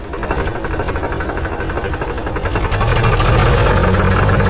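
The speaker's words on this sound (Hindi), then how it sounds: "आप देखो भाई क्या शानदार तरीके से हमारा ट्रैक्टर चल रहा है" A tractor engine runs while being driven in third gear, a loud close rumbling drone with rapid knocking pulses that builds slightly louder midway as the engine works harder.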